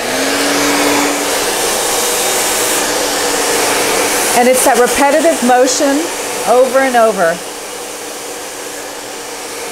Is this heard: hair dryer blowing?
yes